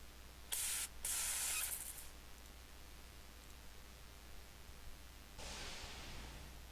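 Pest spray in the game Space Station 13: two quick bursts of spray hiss near the start, followed by a longer spray burst later, over a steady low background hum.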